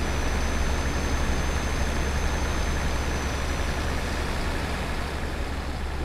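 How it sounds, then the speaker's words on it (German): Truck engine noise heard from the outside camera in the Euro Truck Simulator 2 video game, a steady, loud low drone and rumble that runs unbroken throughout with no talk. "so mit der Außenkamera ist das schon ganz schön laut. Aber jetzt klar, ich meine, wir sitzen ja direkt neben dem LKW."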